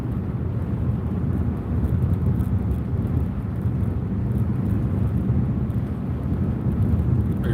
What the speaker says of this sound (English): You guys hear that wind sound in the background? That's a window that doesn't like to stay up in this car.